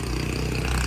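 Several motorcycles, including a Kawasaki Brutus, idle together at a roadside gathering in Binangonan, making a steady low engine rumble.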